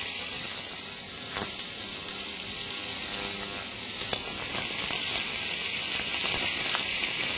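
Fish fillet sizzling in a very hot pan with olive oil, a steady close, loud hiss and crackle with scattered pops throughout, no voices.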